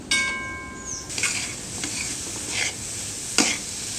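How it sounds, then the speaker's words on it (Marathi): Jaggery and coconut filling for ragi modak stirred in a pan, steady scraping and sizzling with a few sharper utensil scrapes, close and clear. "छान मिक्स करून घेऊया याच्यात"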